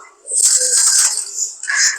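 Close, breathy bird sounds fill most of the clip with a steady hiss-like texture. Pigeons are audible nearby, without talking.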